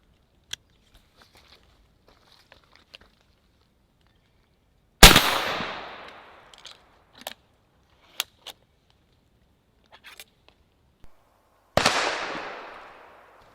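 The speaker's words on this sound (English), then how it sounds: "Let's do a double blast at 15 yards." A 12 gauge shotgun fires harpoon cartridges twice, several seconds apart at an outdoor range. Each blast is a sharp, loud crack with a decaying tail. Small clicks and handling noises fall between the shots.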